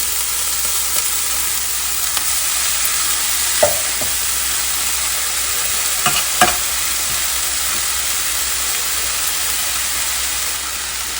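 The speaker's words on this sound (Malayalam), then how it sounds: "ഇനി നമുക്ക് നമ്മൾ അരിഞ്ഞു വെച്ചിരിക്കുന്ന ഇല ഒഴിച്ചു കൊടുക്കാം." Chopped sweet potato leaves sizzle and fry in a pan with a steady hiss, while a few sharp scrapes and knocks mark stirring.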